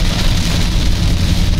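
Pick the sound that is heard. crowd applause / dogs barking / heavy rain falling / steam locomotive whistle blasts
heavy rain falling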